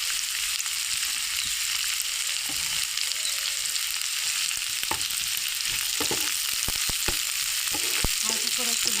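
Garam masala and green chillies fry lightly in oil for a village-style vegetable pulao, a loud, constant sizzle broken by sharp clicks and scrapes of stirring toward the end.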